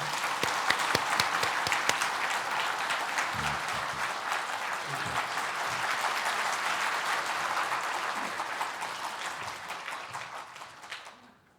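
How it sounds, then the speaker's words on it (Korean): Congregation applause welcoming CBS president Kim Jin-ho at a Korean church's 40th-anniversary ministry service, a long, soft, steady roll of many hands clapping, with a few murmured voices, fading out at the very end. "오늘 김진호 사장님 박수로 환영해 주시기 바랍니다"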